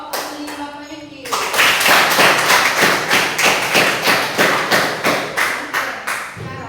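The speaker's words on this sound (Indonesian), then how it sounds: "sekarang tepuk tangan dulu untuk kelompok Andi Nurtanjung" A group claps hands in a classroom-style gathering, starting after a brief voice and settling into loud, close, rhythmic unison claps at roughly two or three per second.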